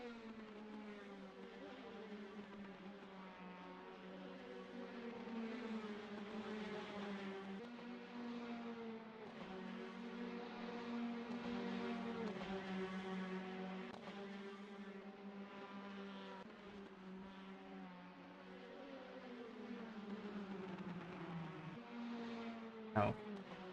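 Praga race cars with 2-litre turbo engines rev hard and continuously at Silverstone, a sustained high-pitched engine whine with shifting tones, steady and fairly loud throughout, ending with a brief sharp knock.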